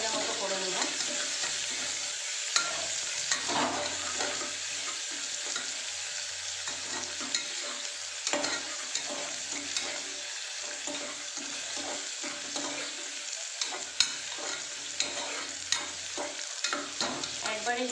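A medium onion sizzles in hot oil in a pan while a spatula stirs and scrapes it in repeated bursts, the frying hiss steady and close throughout.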